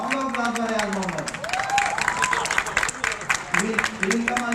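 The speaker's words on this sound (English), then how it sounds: "Round of applause for Riyaz Muhammad." Graduates and guests applaud an engineering graduate at the Sukkur IBA University convocation: continuous crowd clapping mixed with background music and a few cheers.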